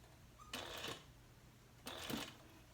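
A sewing machine fitted with a Teflon foot stitches around the edge of a handbag slip pocket in two short, quiet bursts of rapid stitching separated by a brief pause.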